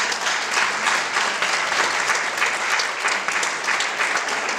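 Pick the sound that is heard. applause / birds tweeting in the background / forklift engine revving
applause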